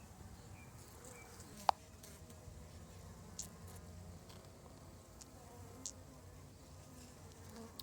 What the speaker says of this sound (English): if you need the bees to move out of the way, you can just blow on them.